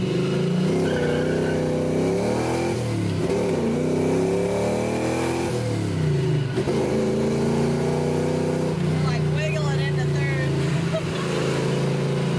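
A Ford Mustang Fox Body car revs and accelerates hard, its engine pitch sweeping up repeatedly through several gears, loud and close, with people talking over it.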